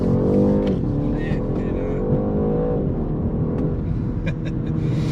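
A BMW 128ti hatchback drones along at steady speed with its gearbox in sport mode, engine hum and road rumble filling the cabin loudly, while someone talks over it.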